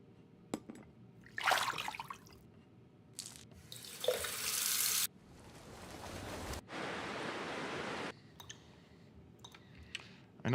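Toast dropped into water makes several splashes and sloshing bursts of varying length, some broad and hissy, with quieter water movement and small clicks between them, close and alone without speech.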